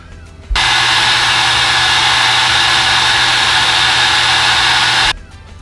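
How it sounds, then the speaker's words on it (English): A small hair dryer drawing about 11 amps roars steadily at close range for about four and a half seconds, starting and stopping abruptly, a broad whooshing hiss with a low hum beneath. "pulling just over 11 amps with the little hair dryer"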